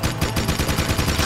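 Rapid automatic gunfire in the Jak 2 video game, a steady run of loud repeated shots about five to six per second with no pauses across the short burst.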